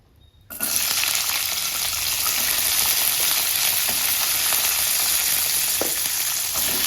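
Cut sambar vegetables such as drumstick hit a hot pan and burst into a loud, steady sizzle that starts abruptly after a brief quiet moment and holds evenly throughout, with faint stirring clicks underneath.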